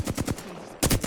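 Gunfire in the video game Apex Legends: two short bursts of rapid automatic shots separated by a brief pause, close and fairly loud, with no talk.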